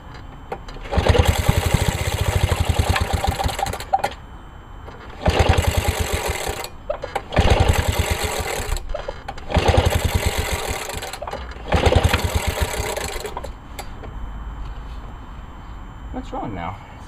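A lawnmower engine is pull-started and fails to catch: about five loud, rapid cranking bursts of a few seconds each, separated by short pauses, each dying out without the engine running.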